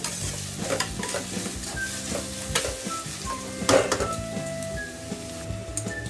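Vegetables for manchurian gravy sautéed in a hot pan, a constant sizzle under frequent spatula scrapes and clinks against the metal, one louder knock near the middle, with no voices.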